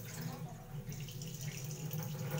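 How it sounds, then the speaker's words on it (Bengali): Tap water runs steadily while Gobindobhog rice is washed in a kitchen, a soft, continuous splashing flow at low volume. "চালটাকে ভালো করে ধুয়ে নেব, পরিষ্কার করে ধুয়ে নিচ্ছি।"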